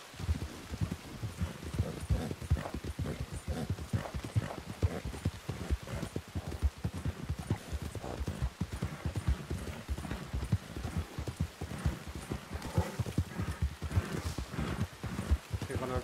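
Horse hooves clip-clop steadily at a walking pace in the RedM western game, a continuous rhythmic clatter running the whole time with faint rain behind it and speech mixed in.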